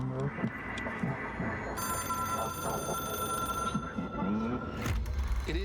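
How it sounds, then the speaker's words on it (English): An old telephone rings in the video game Control, a bright electronic trill repeating over a few seconds, close and clear above low ambient rumble and game sounds. "It is a phone."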